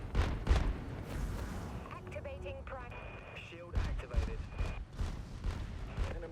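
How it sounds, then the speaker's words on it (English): Flak guns fire in a starship battle game, sending out bursts of deep booming blasts mixed with game tones and beeps while a voice talks over the action. "Activate the flak guns."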